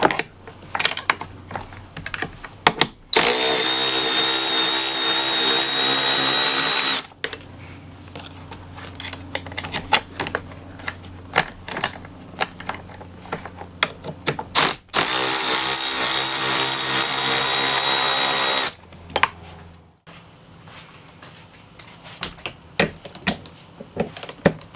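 Tools working on the handlebar bolts of a Sea-Doo GTI 951 personal watercraft, with two long bursts of loud whirring power-tool noise between stretches of clicking and rattling metal handling, close by and without talking.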